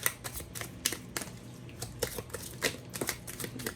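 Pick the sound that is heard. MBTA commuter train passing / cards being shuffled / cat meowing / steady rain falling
cards being shuffled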